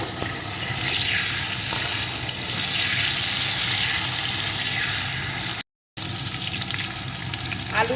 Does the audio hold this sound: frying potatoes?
yes